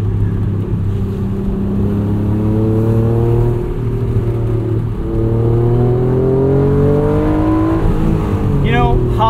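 A 1992 Acura NSX engine pulls hard while driving on canyon roads, loud and close, rising and falling in pitch through the revs, with a brief shift dip midway and a voice at the end.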